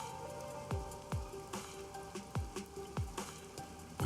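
Steady rain pours over a neon-lit city street in the Raincode video game, a dense even hiss broken by repeated low thuds and splashes at irregular intervals, with no voices.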